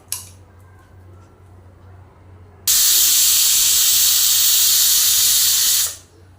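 A loud, steady hiss of steam bursts from a pressure cooker whistle on medium heat, cooking coconut rice, and holds for about three seconds, then stops abruptly, with quiet kitchen hum before it.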